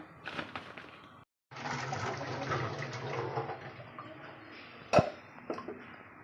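Dried soya chunks go into a pot of hot water in a home kitchen, giving watery splashing and sloshing with a brief pause and a sharp clink near the end, fairly quiet and with no voices.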